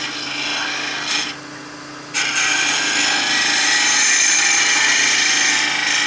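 A hook tool cuts into wood on a lathe, its bevel rubbing the surface in a steady, close hiss, with a brief quieter dip before the loud scraping resumes and holds to the end.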